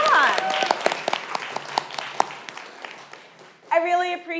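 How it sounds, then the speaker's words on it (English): Scattered applause from an audience at the SwatTank 2024 event, individual claps audible and thinning out, before a voice begins speaking near the end. "let's start with a round of applause"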